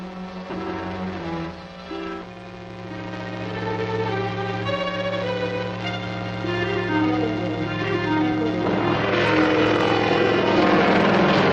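Propeller airplane engine in flight from an old movie serial, a loud continuous drone that swells and builds toward the end, no talk.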